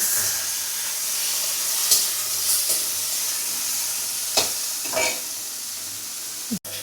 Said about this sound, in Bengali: এরপরে চিংড়ি মাছগুলো ভাজা হয়েছে, এবার তুলে নেওয়া হবে।